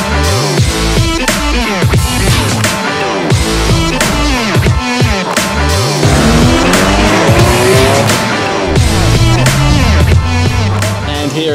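A Mercedes C63 AMG drifting on a race track, its tires squealing loudly and continuously over a revving, shifting engine that rises and falls in pitch, close and dominant throughout with no talking.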